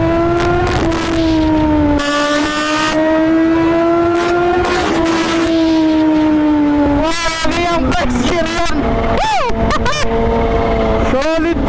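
A Kawasaki Z H2 motorcycle revs hard in first gear, its engine whine climbing and holding loud and near, with gear-change dips and wind noise toward the end.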